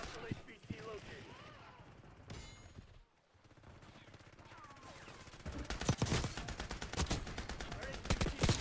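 Gunfire in a Roblox video game: distant, faint popping at first, then dense rapid bursts of close shots crackling in quick succession toward the end.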